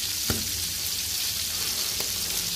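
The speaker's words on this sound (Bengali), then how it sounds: "এখন আমি মাছটা ভেজে নিব, পাঙ্গাস মাছটা" Pangas fish fries in hot oil, giving a steady, dense, hissing sizzle up close with a couple of faint clicks, continuous and even throughout, with no voices.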